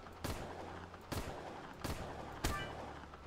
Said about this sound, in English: I'd like to just try and shoot the shark a few times anyway